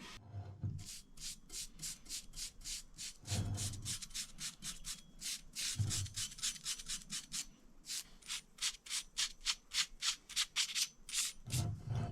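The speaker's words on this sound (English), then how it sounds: "give it any last fine fettling with a little bit of sandpaper" Fine sandpaper is rubbed over an old car bike rack during its restoration. Close, rhythmic back-and-forth scratchy strokes repeat quickly and steadily, broken by a few brief pauses and soft knocks.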